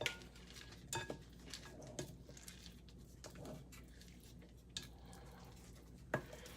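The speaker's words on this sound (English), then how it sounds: "And then I'm going to fold in the chocolate chips." Vegan chocolate chip pancake batter is folded with a utensil in a bowl: soft, quiet stirring and scraping, punctuated by a few light clinks of the spoon against the bowl's side, with no talking.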